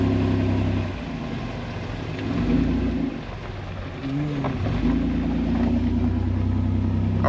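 Vehicle engine with a Rad Design rail controller revving up through low range into second and third gears, a loud droning roar that dips and climbs again with each shift, with no talking.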